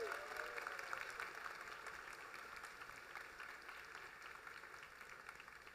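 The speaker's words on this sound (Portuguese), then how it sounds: "a elas peço uma calorosa salva de palmas!" Audience at a São Paulo institute event applauds its partner educational institutions, a steady wash of clapping lasting several seconds at moderate level with faint voices mixed in.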